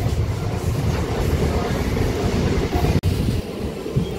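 Secunderabad–Warangal train running steadily, a loud continuous low rumble and rattle of wheels and carriages heard from on board, with a brief dropout near the end.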